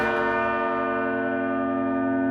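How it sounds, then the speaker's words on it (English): Church bells in Ulm, Germany ring loudly and continuously nearby, a rich sustained clang of overlapping tones with no talking. "be careful when the bells go off. They are extremely loud"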